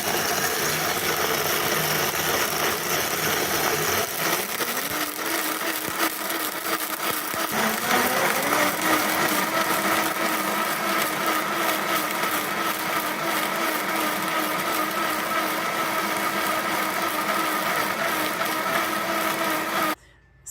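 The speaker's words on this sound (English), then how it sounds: "So I'm going to dump it into the blender and get blending." A Vitamix blender whirs loudly and steadily as it purées prickly pear cactus fruit with water, its motor pitch rising and settling as the mix smooths out, then it cuts off abruptly.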